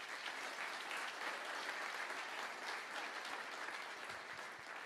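A church congregation claps together in sustained, even applause, a thick wash of hand claps that holds steady throughout, with a few deeper thumps near the end and no talking.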